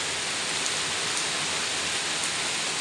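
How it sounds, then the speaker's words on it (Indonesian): Heavy rain falls outdoors during a fishing trip, a steady, dense hiss of drops hitting surfaces that fills the whole moment with no other sound standing out. "Hujannya malah tambah besar, bro."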